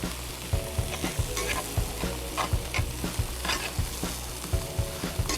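Bok choy whites and tops tossed into a hot pan with bacon and onions, crackling sizzle under rhythmic stirring clatter, close and continuous.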